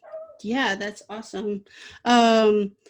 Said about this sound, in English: So excuse my dog.